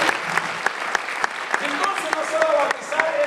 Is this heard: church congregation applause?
yes